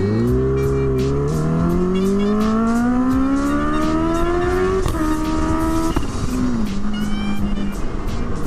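A 2019 Kawasaki Ninja H2 Carbon supercharged motorcycle pulls back into traffic, its engine loud and close as it revs up through a long rising pull, shifts, and settles to a steady drone with wind noise.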